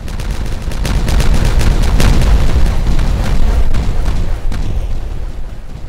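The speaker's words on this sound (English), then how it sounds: "Detonate that." A chain of blasts set off in the beaver colony game Timberborn, played on hard mode, sounding as loud, dense rumbling booms and crackling bursts that roll on continuously for several seconds.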